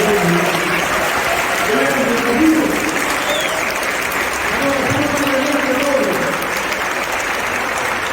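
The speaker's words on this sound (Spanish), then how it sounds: "Vamos a dar un aplauso fuerte a nuestro" Strong, sustained applause from a congregation fills a parish church at the start of catechism, steady broadband clapping running throughout with some voices mixed in.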